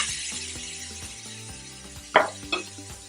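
Taro condiments being mixed with salt and water in a bowl, soft close stirring with a couple of sharper clacks near the middle, over a low steady background hum.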